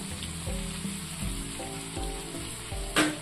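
Masala-coated fish frying in a little oil in a pan, a steady close sizzle and crackle with intermittent low thumps as the pan or fish shifts, and a sharp brief spatter near the end.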